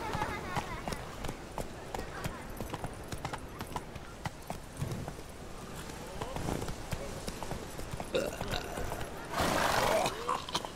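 Roach, the horse in the game Witcher 3, gallops with rapid, steady hoofbeats. Game sounds and voices run underneath, and a louder rushing burst comes near the end.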